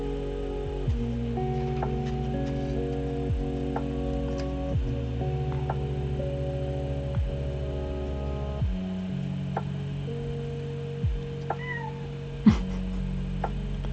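A pet cat meows several times, with drawn-out calls spread across the stretch, near and fairly clear over a soft ticking background.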